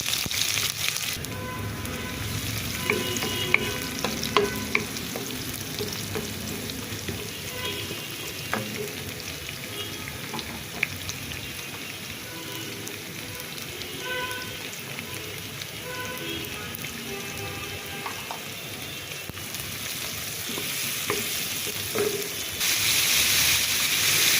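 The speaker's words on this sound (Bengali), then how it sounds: "আদা পেঁয়াজ কুচি রসুন কুচি দিয়ে দিলাম।" Grated ginger with chopped onion and garlic fries in a pan, giving a continuous crackling sizzle like rain on a surface, close up with occasional light stirring clicks, no talking.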